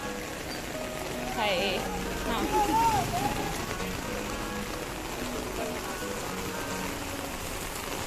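Heavy downpour drumming on an umbrella on a hill-station street at night, a constant dense patter throughout, with someone speaking briefly over it.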